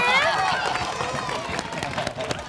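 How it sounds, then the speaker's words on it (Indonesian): A studio audience on an Indonesian children's quiz show applauds for a contestant group, a dense continuous patter of clapping with a voice and crowd noise mixed in. "Ya, tepuk tangan dulu kelompok D."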